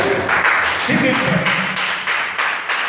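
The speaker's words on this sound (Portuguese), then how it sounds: "E as palmas para Jesus" A church congregation claps in a loud, steady rhythmic beat, with voices and singing mixed into the clapping throughout.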